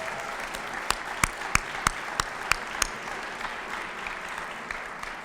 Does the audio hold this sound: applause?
yes